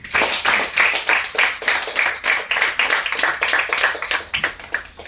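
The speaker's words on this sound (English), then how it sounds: "Let's clap for her." Audience clapping during a career-growth bootcamp lecture: a steady run of close, crisp hand claps from a small group, moderately loud and continuous for several seconds.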